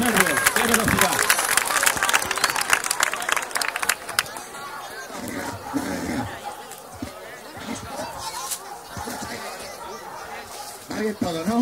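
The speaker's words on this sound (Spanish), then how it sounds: "Un aplauso, listo." An audience at a Spanish National Police canine unit demonstration claps in a burst of applause for the first few seconds, then settles into crowd chatter and nearby talking.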